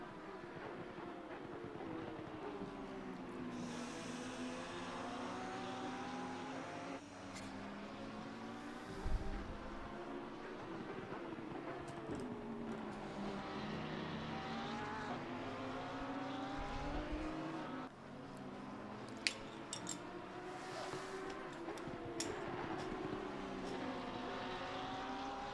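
GT race cars circle the Barcelona circuit in a sim racing league game, engines droning continuously with rising and falling revs and gear changes, several cars passing at moderate distance under steady track ambience.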